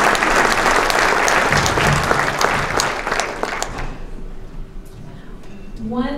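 Applause from an audience at a gala dinner event, a dense roomful of clapping that fills the first four seconds and then thins out as the room quiets.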